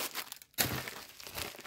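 Plastic bags from an AliExpress parcel crinkle and rustle as they are handled and opened, a close, busy crackling texture broken by a short pause before a sharp crisp burst of noise.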